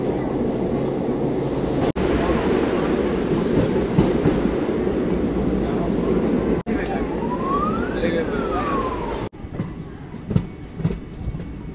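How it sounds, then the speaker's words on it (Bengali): A train rolls into platform 4 at Malda Town station in the evening, a steady loud rumble of wheels and carriages with a rising and falling squeal or horn near the end, then quieter clattering. "আমাদের 4 নম্বর প্ল্যাটফর্মের মধ্যে ট্রেন ঢুকেছে।"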